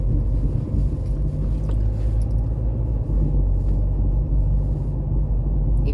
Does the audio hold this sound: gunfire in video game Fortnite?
no